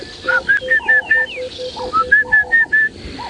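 An orange-breasted bushshrike calls at dawn on a safari drive, giving a repeated series of clear, rising whistled notes in two bursts, fairly close and loud, with a softer lower piping note running alongside.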